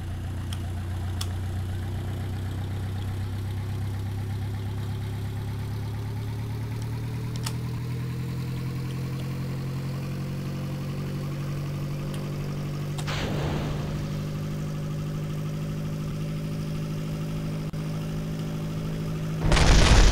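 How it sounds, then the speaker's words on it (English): Aircraft engine starting and running in Kerbal Space Program, early propeller plane: a steady low drone holding throughout with a brief rougher burst midway and a louder surge at the very end, no talking. "And we're going to start the engine."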